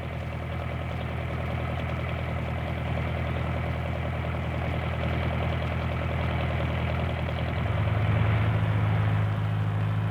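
A tractor's diesel engine idles with a steady low rumble throughout, its tone deepening and growing a bit louder near the end.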